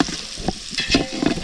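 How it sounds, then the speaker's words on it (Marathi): Kaul (clams) frying over a wood fire (chul) at a night party in Konkan, with steady sizzling and stirring scrapes and a few louder clattering bursts close by. "संदेशचे कौल फ्राय करताना"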